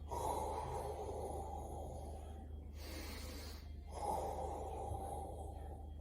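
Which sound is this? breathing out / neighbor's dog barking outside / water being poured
breathing out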